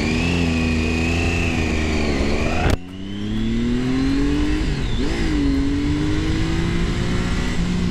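A motorcycle on a circuit practises hard braking; its loud engine holds a steady note, drops off sharply, then climbs back up through the revs, close and alone without talk.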